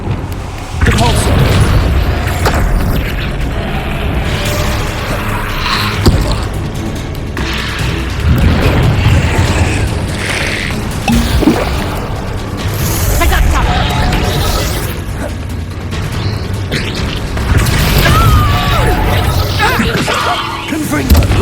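Repeated magical spell blasts from a Hogwarts Legacy duel, booming impacts and whooshing bursts recurring every few seconds over dense game combat noise, with voices speaking at times.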